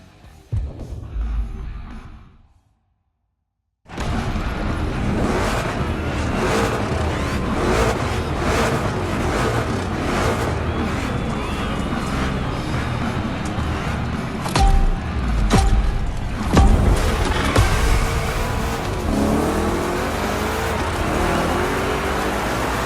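Two Chevy big block engine cars race at Motorfest in TCMF, their engines droning loud and continuous after a brief silence, with a few louder surges as they power through rough turns.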